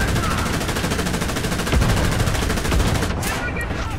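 Sustained automatic machine gun fire in War Thunder realistic battles, rapid and continuous bursts that dominate the mix, ending in a brief sharp crack near the end.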